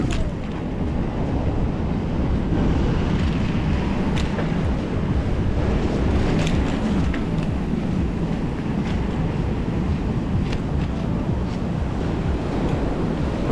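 Wind and sea waves on the Sochi seafront in December produce a loud, steady broadband roar with deep rumbling surf and gusty buffeting, continuous throughout with no talk.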